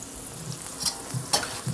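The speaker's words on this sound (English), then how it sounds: "so I'm frying up these onions." Onions frying in a pan with a soft steady sizzle, punctuated by a few brief stirring scrapes and clinks; no one speaks.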